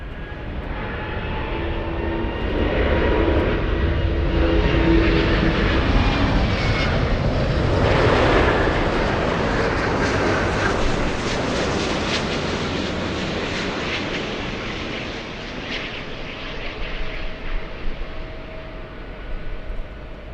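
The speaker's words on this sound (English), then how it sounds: "And we have the A350-1000 flying in from Haneda," An Airbus A350-1000 arriving at LAX on the daily flight from Haneda: a broad jet roar swells as it approaches, peaks near the middle, then slowly fades as it passes.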